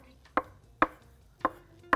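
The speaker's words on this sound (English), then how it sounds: "with your bench scraper, cut off these beautiful little dumplings" A bench scraper cuts soft ricotta gnudi dumplings on a work surface with four sharp, separate chops spaced about half a second apart, close and clear, with no voices.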